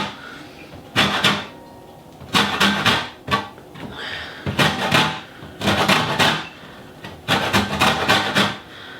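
Lemon zest is grated in short, rhythmic bursts of scratchy rasping strokes, several quick passes per burst with brief pauses between, close and fairly loud, with no talk.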